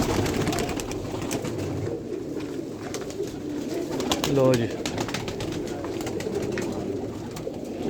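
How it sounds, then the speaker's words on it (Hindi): Pigeons of many breeds and colours kept in a large loft at night, with one brief soft coo standing out from a steady background murmur of birds while someone speaks nearby. "बड़े ही अच्छे अच्छे कबूतर हैं बीच में"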